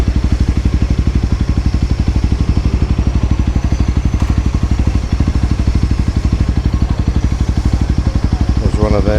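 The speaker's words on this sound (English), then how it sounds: "There's one of them new Honda CRF 300s." A Honda CRF 300 motorcycle idles nearby with a steady, rapid thumping beat that stays loud and even from start to finish.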